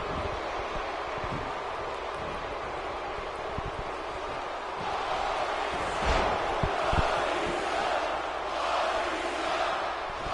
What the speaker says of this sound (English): the people are cheering for Batista